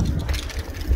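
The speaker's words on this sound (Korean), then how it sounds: "바람 소리 엄청납니다" Strong gusting wind buffets the microphone outdoors at a construction site, a loud low rumbling roar that swells and surges throughout the short moment with no talk over it.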